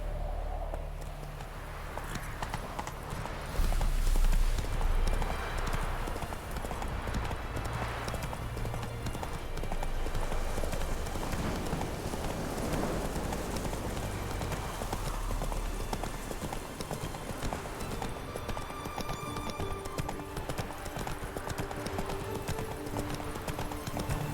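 Roach, a horse in the video game The Witcher 3, gallops with rapid rhythmic hoofbeats, loud and continuous throughout, with a brief whinny and faint talk in places.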